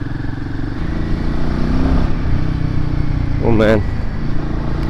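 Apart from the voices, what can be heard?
Royal Enfield Himalayan 450 motorcycle exhaust note, throttle blip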